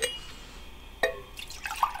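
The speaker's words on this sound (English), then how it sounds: "Hey, can you pour me some more?" A drink is poured into a glass at an ASMR snack tasting, heard as short, close liquid trickles and drips over a quiet background.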